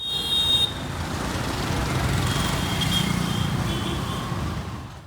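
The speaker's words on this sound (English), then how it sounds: "assume that you've heard about India's infamous roads, and if not, here's a little sample for you" Busy Indian road traffic with cars, trucks, buses, rickshaws and scooters, a steady close roadside roar of engines with a brief high horn toot at the start and faint tones later.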